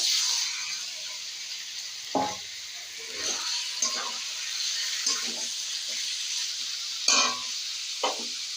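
Mutton frying in a pan with fried onion, ginger and garlic; a soft steady hiss and sizzle is broken by several sharp stirring knocks and scrapes.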